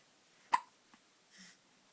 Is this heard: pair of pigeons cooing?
no